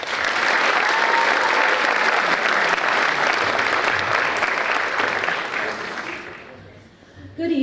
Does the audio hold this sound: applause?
yes